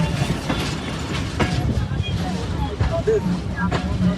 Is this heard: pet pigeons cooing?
no